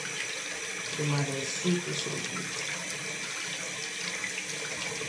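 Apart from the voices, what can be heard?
running water wetting and washing dreadlocks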